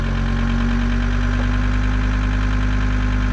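Engine of a Volkswagen LT-35 van with a fault, running steadily on its own with a constant low hum and slight knocking vibration, loud and close, no voices.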